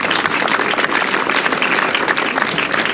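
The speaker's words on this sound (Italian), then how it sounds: "qui merita veramente un bel applauso" An audience at an evening event in Formigine applauds loudly and continuously, a dense wash of clapping heard up close with no speech on top.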